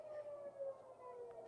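Air raid sirens wail around Tel Aviv, faint and distant, holding a steady tone with a slight wavering pitch over a quiet background.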